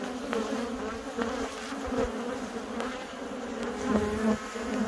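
Honey bees drone around a hive on Dartmoor in August, a steady close buzz that swells and fades slightly as insects pass, with no voices.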